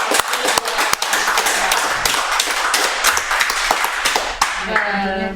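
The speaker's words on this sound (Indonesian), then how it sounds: "Tepuk tangan dulu." A crowd applauds with dense, steady clapping for several seconds, and a voice starts to speak as it tapers off at the end.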